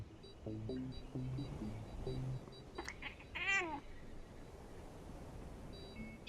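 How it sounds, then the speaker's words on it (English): A cat meows close into a microphone, a short rising-and-falling call heard once, standing out over quiet game background tones and soft beeps. "She meowed right into the mic."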